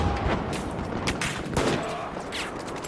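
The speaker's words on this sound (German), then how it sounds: "Da wird auf ihn geballert." Battlefield 4 multiplayer Conquest gunfire on the Caspian Border map. Dense bursts of automatic weapon fire and scattered shots overlap at mixed distances, continuous and fairly loud.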